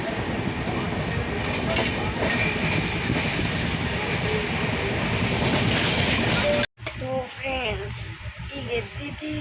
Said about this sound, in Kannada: ಟ್ರೈನ್ ಬಂದು ಟ್ರೈನಲ್ಲಿ ಇದ್ದೀವಿ